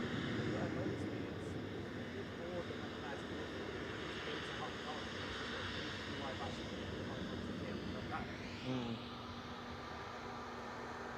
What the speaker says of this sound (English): Cathay Pacific just passing over Cheadle.